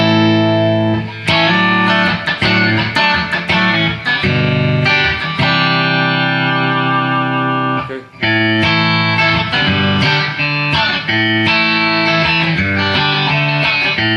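Electric guitar played through its single-coil pickups in the 2 position, Strat-like and bright, with loud strummed chords and choppy rhythmic stabs, one brief pause midway, then strumming again.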